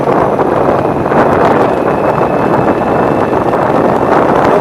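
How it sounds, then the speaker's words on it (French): Motorcycle riding noise, a continuous loud broadband roar mixed with heavy wind buffeting on the microphone, steady throughout with no talking. "je sais pas si tu m'entends avec le bruit de la moto dans le fond"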